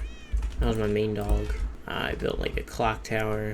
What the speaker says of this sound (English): I have a bunch of cats in here.